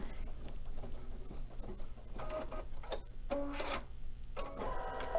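An embroidery sewing machine stitches an appliqué in a steady mechanical run, its needle patter continuous and fairly close, with a few brighter clicks and whirs breaking through partway.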